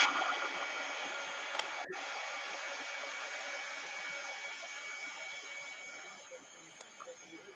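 A hair dryer blows steadily to set paint before a top coat goes on a customised doll, its whirring hiss continuous and moderately loud for the whole stretch, easing slightly toward the end with a few small clicks.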